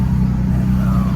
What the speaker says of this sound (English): So you can hear that diesel purring.